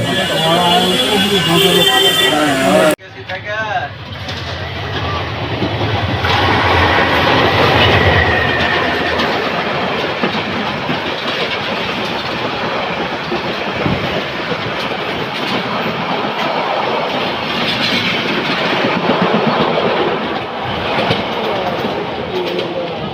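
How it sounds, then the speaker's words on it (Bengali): A local train rumbles and clatters steadily as it pulls away, wheels clicking along the rails, with voices and station noise mixed in. "তো একটা ট্রেন ছেড়ে দিল"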